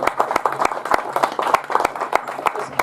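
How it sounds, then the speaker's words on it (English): An audience claps for a guest panel at an overland travel event, sparse distinct hand claps in an irregular rhythm with faint crowd murmur behind. "Give them a round of applause,"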